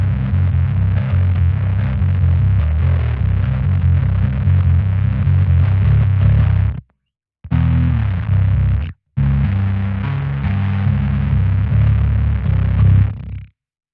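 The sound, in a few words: clean bass guitar playing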